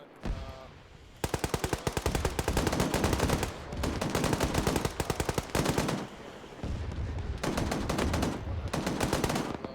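Video-game gunfire in long, loud automatic bursts, rapid machine-gun volleys separated by brief pauses, close and dominant with no talk over it.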